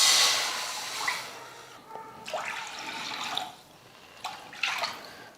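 Water is poured from a tumbler into a pan for making rava kesari: a few short splashing pours, separated by brief pauses.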